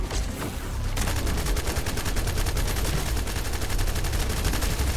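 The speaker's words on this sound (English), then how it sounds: "Trying to shoot his chest." Rapid automatic gunfire from The First Descendant rattles in a dense, loud, even burst that continues without pause after a short lead-in.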